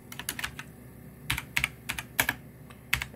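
Light typing on a computer keyboard, soft irregular key clicks tapping in short runs at close range in a quiet room.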